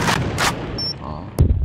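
A grenade explosion in the shooter game AVA, with a couple of sharp blasts and gunfire bursts, followed by a loud thump near the end, close and punchy.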